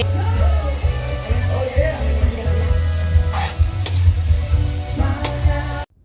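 Dinuguan and other dishes such as fish and vegetables sizzle and fry in pans at an outdoor birthday party, a steady hiss of oil with occasional stirring clatter running continuously up close, with faint voices in the background.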